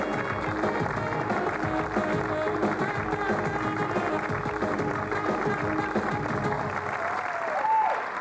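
Television studio audience applause on a French TF1 prank show, a continuous loud wash of clapping with music-like tones woven through and a brief swell near the end.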